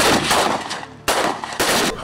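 Sharp bursts of rifle gunfire ring out at a Nigerian Defence Academy shooting range during a cadets' inter-battalion shooting competition. Three loud reports arrive in quick succession, each with a short decaying echo.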